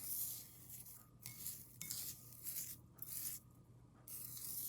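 Bath salts with rose petals and essential oils stirred together in a container, giving soft gritty scraping and rubbing in uneven strokes with brief gaps, quiet and close with no speech.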